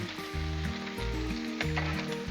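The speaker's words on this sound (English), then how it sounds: "The bacon's cooking quick, y'all, and this is on low." Bacon sizzles on a Blackstone griddle set to low heat, a steady close crackle under music with a prominent melody.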